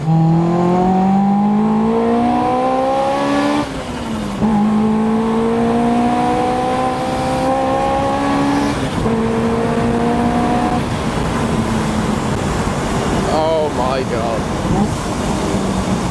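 A Honda Civic Type R EP3 engine revs through the gears on a drive, loud near tones climbing repeatedly with short breaks at each shift, steady cabin road roar beneath.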